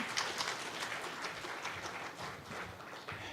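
An audience at a conference conclave applauds as a government minister comes onto the stage, a soft, continuous patter of clapping heard from some distance.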